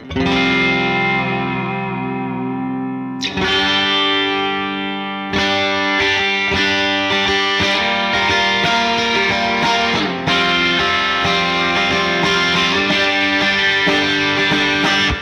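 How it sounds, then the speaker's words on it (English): A Matsumoku-built Greco electric guitar with the reverse-phase neck pickup in series plays thick, distorted chords with ringing sustain, several strummed hits in a row, loud and close with no voices. "even thicker if I put the reverse phase neck pickup in series"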